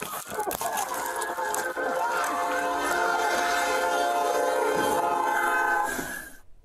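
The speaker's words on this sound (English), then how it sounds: "You heard how close that train was." A train rumbles close by as its horn blares in a long, steady sustained blast that holds nearly the whole time, then cuts off abruptly at the end, at a traffic stop near the tracks.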